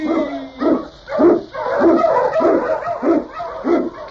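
Husky sled dogs bark and yip in a rhythmic series of close, loud barks about every half second, a radio-drama sound effect with no talk over it.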